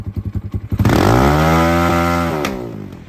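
A Kayo K2 ATV engine idles in a chugging rhythm, then is revved hard against its rev limiter, holding a loud, buzzing high pitch before easing off slightly.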